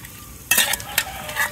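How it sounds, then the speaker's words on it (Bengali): A large fish seasoned with turmeric, chili and salt fries lightly in oil, giving a soft sizzle with sharp crackling bursts as it is stirred or moved in the pan. "আসলে বড় মাছ যেহেতু তাই ভাবলাম একটু মানে হালকা একটু ভাজা করে নিই"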